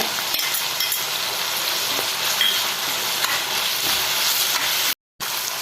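Green chillies and curry leaves frying in a pan for Kerala-style masala dosa filling, a loud, dense, continuous sizzle with stirring, close up, broken by a brief moment of silence near the end, with no talk.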